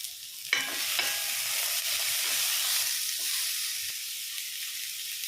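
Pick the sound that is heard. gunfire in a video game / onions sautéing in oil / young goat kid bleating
onions sautéing in oil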